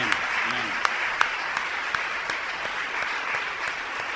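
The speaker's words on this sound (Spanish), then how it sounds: "Y ahora le damos un fuerte aplauso a nuestros hermanos." A church congregation claps in steady sustained applause, dense and even across the whole stretch, with a few sharper individual claps standing out and a voice briefly heard early on.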